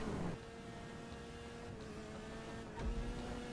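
A Maxwell Vagrant (Ariel Nomad), a rear-wheel-drive car in the video game GTA, driving on a track: a steady, low engine drone holds a constant tone, with small surges at the start and near the end.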